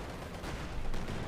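Tank cannon fire in Company of Heroes 2, an H5 tank shooting at a King Tiger amid battle noise, heard as a dense rumbling burst of gunfire swelling louder toward the end.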